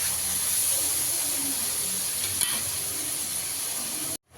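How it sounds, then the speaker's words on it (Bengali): Turmeric and Kashmiri chilli powder masala stir-fried in a pan for lote fish jhuri, a steady close sizzle with a faint scrape of the spoon midway, cutting off abruptly at the end. "মশলাটা ভালো করে কষিয়ে নেব।"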